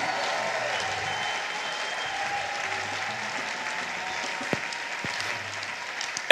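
A church congregation claps together in steady, continuous applause that fills the space evenly for several seconds, with no voices rising above it and a couple of sharper claps near the end.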